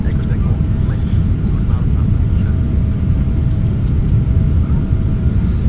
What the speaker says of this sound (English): Flaps going in, landing gear going up.